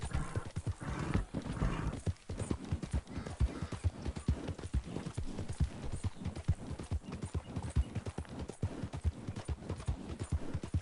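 Horse hooves clip-clop in a steady rhythmic gait while riding in the video game Red Dead Redemption 2, loud and continuous with no talking.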